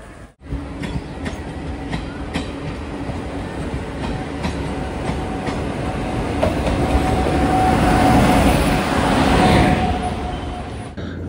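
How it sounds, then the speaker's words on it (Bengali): Inside the moving Tinsukia Express, a loud continuous rumble of the carriage fills the space with rhythmic wheel clicks over rail joints, building gradually louder with some squealing toward the end. "বুঝতেই পারছেন ট্রেনের ভেতরে আমরা"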